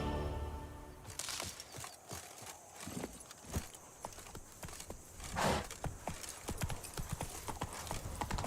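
Roach, the horse in The Witcher 3, clip-clops along in a quick, steady run of hoofbeats, each beat sharp and distinct against a faint game soundscape.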